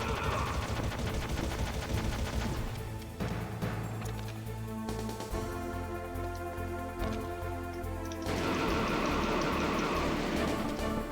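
Dense, continuous gunfire in the video game Metal Gear Solid, rapid machine-gun bursts and shots crackling loudly throughout with game music and effects layered underneath.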